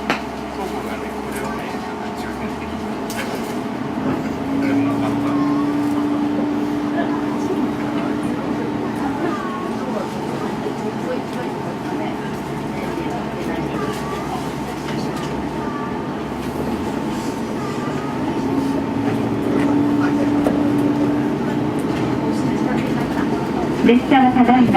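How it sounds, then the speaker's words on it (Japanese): A KiHa 47 diesel sightseeing train on the Hisatsu Line pulls away from a switchback toward Yatake station, heard from on board as a steady, rising engine drone and rail rumble with occasional clanks, and faint voices in the background. "これより列車は次の矢竹駅に向かって発車いたします。"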